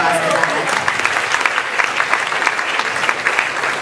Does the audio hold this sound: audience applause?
yes